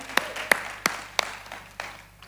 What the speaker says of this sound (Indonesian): kasih tepuk tangan yang paling luar biasa untuk tim Presiden Worship